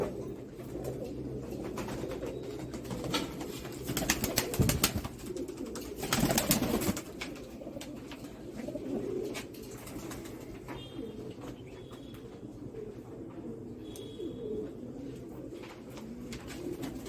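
Breeding pigeons coo softly in a loft, with low rolling coos and occasional wing flaps and rustles repeating under a steady background murmur, fairly quiet and close.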